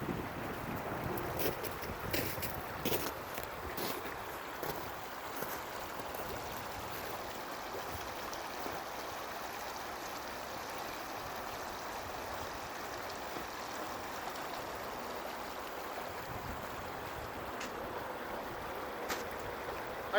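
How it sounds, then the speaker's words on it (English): Kennedy Creek in a backyard flows with a soft, continuous rushing wash, faint and steady throughout, with a few brief knocks and wind buffets early on and no talk. "This is Kennedy Creek."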